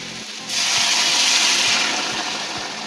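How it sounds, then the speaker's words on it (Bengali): Hot water poured into a pan of fried spices for a cauliflower and potato muri ghonto, a broad rushing hiss that starts abruptly and holds steady at close range, with faint regular ticks underneath. "আমরা এখন গরম জল দিয়ে দেবো।"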